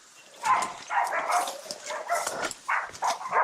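Hunting dogs after wild pigs in a tropical river area, barking in repeated close, loud yelps and bays in quick uneven bursts.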